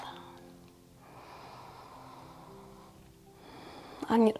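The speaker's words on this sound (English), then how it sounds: "One more deep breath." A slow, deep yoga breath during a vinyasa flow: a long, soft airy inhale and exhale, fairly close and quiet, ending in a brief sharper sniff or snort.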